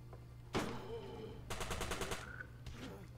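Gunshots in Surviving the Aftermath, a few sharp reports followed by a rapid burst of repeated shots, fairly distant over a steady low hum.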